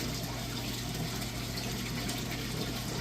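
Aquarium water pumped through plumbing and diverted back into a sump, a steady close rush and gurgle of flowing water over a constant low pump hum, with no voices.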